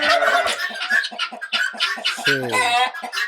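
Turkeys on a poultry farm that also keeps local chickens and geese give close, overlapping gobbling calls in a dense, continuous chorus with no pauses.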